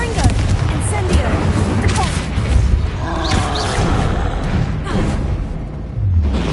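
Confringo and Incendio spell blasts fire repeatedly in Hogwarts Legacy, a run of loud booming and crackling bursts with fiery whooshes, mixed with shouted voices throughout.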